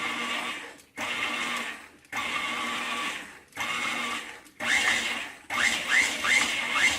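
A food processor pulses cookie dough in short whirring bursts separated by brief pauses, about six bursts in all, each a steady motor drone, with the last ones choppier and uneven.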